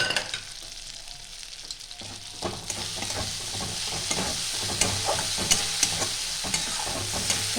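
A spice paste with chopped tomato is sautéed in a pan, the soft steady sizzle broken by repeated scraping stirs and light clicks of a spatula, close by and fairly quiet, with no voices.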